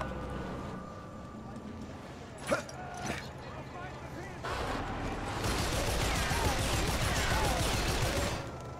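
A sniper rifle fires in the World War II shooter game Sniper Elite 3, set in Siwa with a tank nearby. One sharp report rings out, then a fainter second crack follows, over a low rumbling game backdrop that swells afterward.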